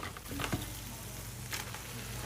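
Crab drops into hot oil and spice paste for a crab curry, giving a constant close sizzle and frying hiss with a couple of brief stirring clatters.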